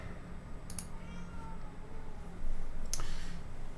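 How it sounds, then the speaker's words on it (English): A cat meows faintly, two brief cries about two seconds apart, heard against a low steady background hum during a flight-simulator setup session. "That sounds like a kitty cat."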